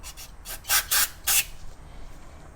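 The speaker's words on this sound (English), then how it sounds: "you want to take brake cleaner and spray it down in there to blast out any other remaining metal filings that are in there" Brake cleaner sprayed from an aerosol can into a car's steering rack to flush out metal filings, heard as about five short hissing bursts, the middle three loudest, with no talking.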